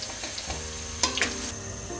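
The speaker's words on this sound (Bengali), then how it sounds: "এবার আমি দিয়ে দিচ্ছি রসুন বাটা। এটাকে আমি ভালোভাবে ভেজে লাল করে নিচ্ছি।" Garlic paste frying in hot oil in a pot for Bengali wedding-style beef dopiaza, a quiet steady sizzle with a couple of brief spatter bursts and a faint scrape near the middle.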